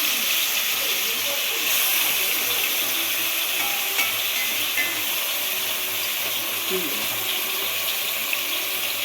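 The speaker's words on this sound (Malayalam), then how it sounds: "ചിക്കൻ നമുക്ക് ബാക്കിയുള്ള നെയ്ക്കകത്തിട്ട് വഴറ്റി വറുത്ത് കോരാം" Steady sizzling and crackling of chicken frying in ghee fills the clip, continuous and fairly close, with faint clinks now and then.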